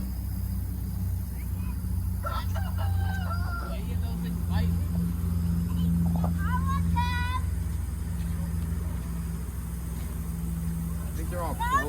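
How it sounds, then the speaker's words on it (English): Chickens and roosters crow and cluck in short bursts at a moderate distance, over a steady low engine drone from a vehicle. "Hear how loud they are? I think they're all crowing to that."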